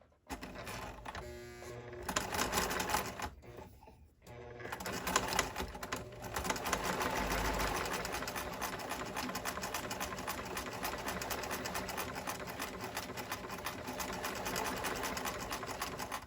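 A sewing machine stitches a seam with a half-inch seam guide, running in a fast, steady mechanical whir after a few short starts and stops, close and fairly quiet, with no voice over it.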